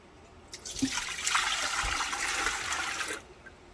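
Tap water gushing into a container in a home kitchen while cooking soup, a steady rushing stream lasting a few seconds with small clunks at the start, then cutting off.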